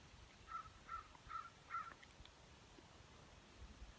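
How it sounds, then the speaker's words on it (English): Four distinct crow caws in a regular rhythm, fairly close and clear, followed by quiet outdoor background with faint rustling. "There's some loud crows."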